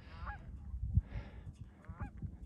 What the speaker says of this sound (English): Got a lot of geese out there.